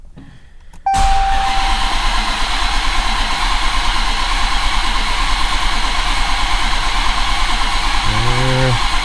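A modified 1500hp Dodge Challenger SRT Hellcat engine cranks loud and close for about eight seconds without catching, a steady rapid churning, with a brief electronic chime near the end.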